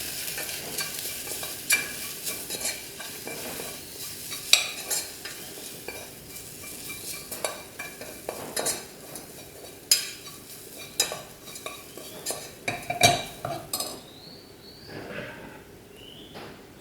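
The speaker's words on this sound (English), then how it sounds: "we'll just give this a stir, and we'll toast the spices" Spices being stirred and toasted in a pan for a chickpea (kadala) curry, with frequent scraping and clinking spoon strokes over a faint sizzle that continues for a long stretch.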